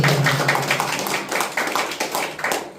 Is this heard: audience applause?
yes